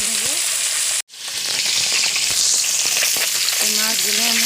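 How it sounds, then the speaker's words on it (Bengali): Small puti fish go into hot oil: a loud, dense frying sizzle cuts out for an instant, then surges back and holds steady, close up and with no talk. "আমি অল্প অল্প করে মাছগুলো একটু ভেজে নেব।"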